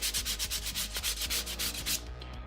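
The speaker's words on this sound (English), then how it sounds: "I shouldn't sand this onto that" Sanding on an armor piece, a fast rhythmic rubbing with repeated strokes at steady tempo, close and fairly loud, then stopping near the end.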